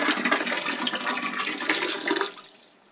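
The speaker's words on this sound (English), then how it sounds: "I add hot water to the washing machine." Hot tap water gushes steadily into a washing machine drum for wool processing, a broad close rushing pour that cuts off near the end, leaving a quieter trickle.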